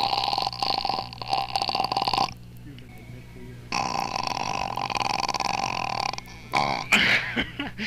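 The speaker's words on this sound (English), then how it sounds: "Well, maybe I'll pause it for the big burp." A long, loud, drawn-out human burp rumbles on for several seconds, breaks briefly, then resumes and trails off in a second stretch, close up with nobody talking over it.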